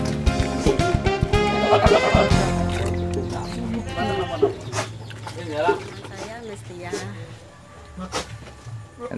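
Javanese goats on a fattening farm bleat several times nearby, with people talking over and between the calls.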